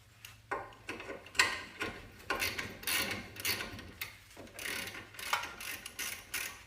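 Ratchet wrench working a ball joint nut on a 2006 Kia Rio LX, giving a quick run of close, sharp clicking strokes in uneven bursts with no talk.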